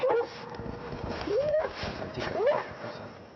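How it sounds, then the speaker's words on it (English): A dog gives a few short, high yelping barks with whiny rising tones, spaced out over steady background noise. "when they heard the sound of the dog barking"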